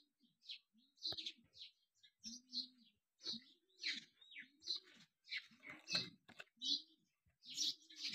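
Small birds chirp in quick, repeated high bursts beside their nest in a village, with soft low cooing notes underneath and no talk.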